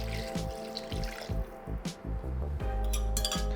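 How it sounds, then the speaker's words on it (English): Vegetable stock pours into a cooking pot with gurgling, glugging liquid and light clinks, a close, continuous fill with no talking. "we've got our vegetable stock going right in there"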